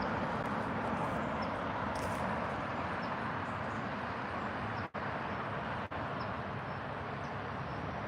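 Distant road traffic forms a continuous broadband roar outdoors, with no distinct individual passes, steady and fairly faint throughout apart from two brief dropouts.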